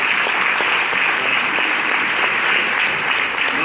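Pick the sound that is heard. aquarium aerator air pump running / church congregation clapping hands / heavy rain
church congregation clapping hands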